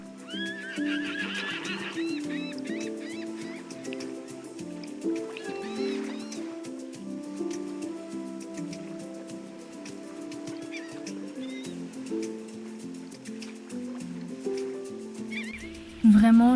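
Horse neighing and whinnying in the online horse-riding game Star Stable, with several whinnies and clip-clop hoofbeats over a steady game soundtrack, ending in a louder burst.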